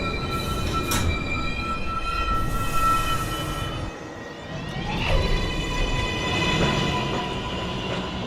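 A Manhattan-bound New York City subway 1 train rumbles loudly and steadily, with metallic wheel squeal and high tonal whines rising and falling, heard up close from the platform with no talk.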